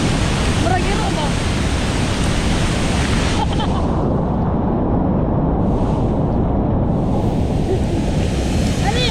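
Roaring waterfall at what is billed as the widest falls in the Philippines, a loud, steady broadband rush of falling water filling the whole clip, close and continuous without a break.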